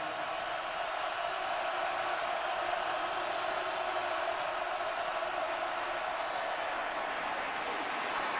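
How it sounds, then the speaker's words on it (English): A football stadium crowd at Baylor versus Kansas State roars on third down, making a steady, dense wall of noise that holds without letup throughout. "Listen to this crowd on third down."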